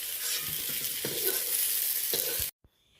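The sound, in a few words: nigella seeds sizzling in hot oil for tempering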